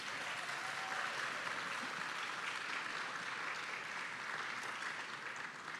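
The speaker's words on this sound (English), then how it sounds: "please everyone give them a big round of applause" Sustained applause from a large crowd at an awards dinner, steady and dense clapping that continues evenly throughout without talk.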